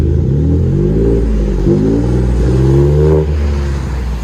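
A Ford F-150 PowerBoost hybrid pickup with a Black Widow aftermarket exhaust revs loudly and close, its engine note rising and falling in steady swells with no talking over it.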